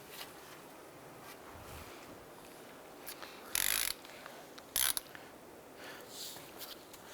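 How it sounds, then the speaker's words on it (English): Torque wrench tightens the tie rod end nut on a Ford Escape steering rack, sounding as quiet clicking and ratcheting with two sharp, loud clicks in the middle and faint mechanical handling around them. "I'm going to go ahead and torque that down"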